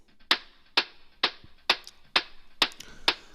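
A hi-hat sample loop for a Drumcode-style techno track ticks in crisp, evenly spaced metallic hits with small extra ticks between, fairly quiet and alone.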